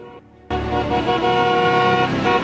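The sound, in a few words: car horn honking continuously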